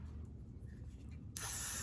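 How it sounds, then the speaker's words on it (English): Got2b hair spray sprays onto a lace wig in one loud, steady hiss that starts suddenly near the end and runs for about half a second after a quiet stretch. "We're going to address that with this Got To Be spray"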